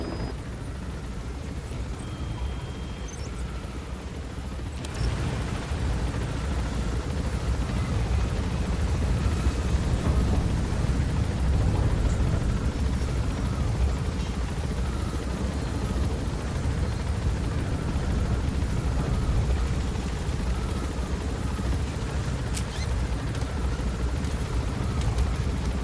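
A helicopter in the video game Metal Gear Solid V thunders steadily as it gains altitude, a dense, continuous rotor and engine roar that jumps louder a few seconds in and holds unbroken with no voices.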